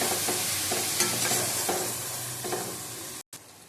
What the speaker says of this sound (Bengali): এটা গোটা টমেটো নিয়ে নিচে দিয়ে দেবো ভালো করে কষিয়ে নেবো